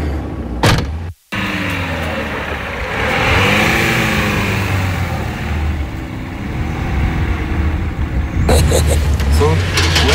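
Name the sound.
old car engine running and driving off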